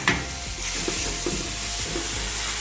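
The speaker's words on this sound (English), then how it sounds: "I'm frying that there." Steady sizzle of onions frying in a pan, with occasional soft scrapes and stirring clatter, close and continuous with no talking.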